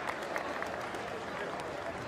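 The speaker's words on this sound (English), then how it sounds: "And that's some generous applause." A stadium crowd at a hot-day rugby sevens match in Exeter, Georgia against Russia, applauds in a broad, steady patter, with a commentator's voice running over the clapping.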